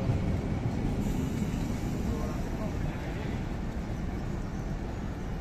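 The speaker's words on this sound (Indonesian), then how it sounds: "ini dia rangkaian KLB yang barusan tiba di stasiun Manggarai" KLB special train arriving at Manggarai station rumbles with a steady, broad rolling roar of wheels and cars, dense and continuous at moderate level with ambient station noise.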